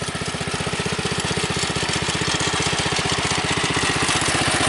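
Bolens Husky 600 custom garden tractor engine running just above idle, a loud, close, steady rapid chugging pulse with a rattly edge, unbroken throughout, no voices.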